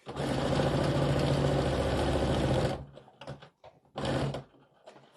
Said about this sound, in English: this technique of just sewing the yarn on is called couching